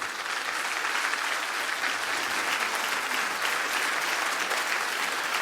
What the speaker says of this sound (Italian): facciamo loro un bel applauso.